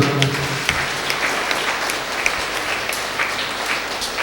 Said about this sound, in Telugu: గొప్ప దేవుని గట్టిగా చప్పట్లు కొడదామా?